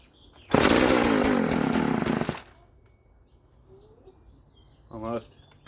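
A Stihl FS 36 trimmer engine tries to start: a loud two-stroke burst that runs for about two seconds, then quiet, then a brief rising sputter near the end.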